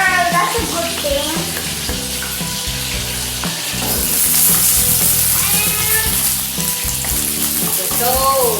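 Fish for sweet and sour fish sizzling and popping in hot oil at home, a steady loud crackle with intermittent pops, while people talk over it.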